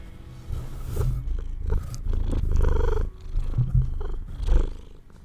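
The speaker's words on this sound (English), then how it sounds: "just want you to hear her purring." A pet cat purrs close to the microphone, a continuous low rumbling purr that rises and falls with each breath, heard alone.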